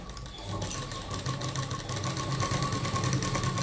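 A sewing machine stitches a prince cut blouse, its steady motor whir and rapid needle rattle running continuously and close for a few seconds.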